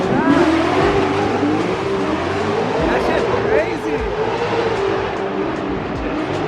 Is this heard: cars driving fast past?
yes